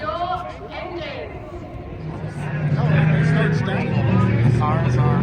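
Race car engines start and rumble at the Rolex 24 at Daytona, a low droning drone that thickens and grows louder halfway through, heard amid crowd noise with people talking over it.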